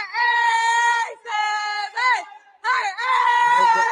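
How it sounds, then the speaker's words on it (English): Basketball fans in an arena cheering and chanting together, a loud sustained group of voices rising in harmonic bursts with short breaks between phrases. "this is just the fans cheering"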